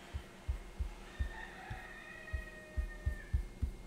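A rooster crows in drawn-out calls, moderately loud, with soft rhythmic thumps and a low hum running underneath throughout.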